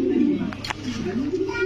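A large White Beauty pigeon coos close by in a loft, a steady low throaty burble running through the whole stretch, with a brief brighter flutter or rustle in the middle.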